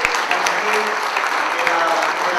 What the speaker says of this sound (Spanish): Homenajeamos con esta aplauso.